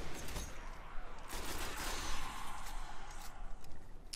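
Dense, continuous firefight in the video game Destiny, with rapid overlapping gunshots and bursts crackling throughout amid game ambience, fairly loud and busy with no talking.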